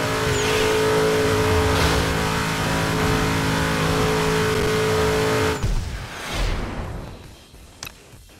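A car engine revs hard and steadily during a street race through Tokyo in the Midnight Club LA Remix video game. The loud, continuous roar drops away abruptly near the end, leaving only faint traces.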